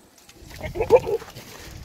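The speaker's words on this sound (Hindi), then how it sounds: "ब्रीडर भी माशाल्लाह बहुत ही प्यारा बकरा है।" A breeder goat bleats in a short, moderately loud burst near the middle, heard close by against a quiet background.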